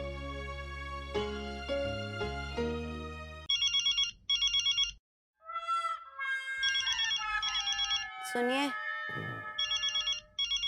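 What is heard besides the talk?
phone ringing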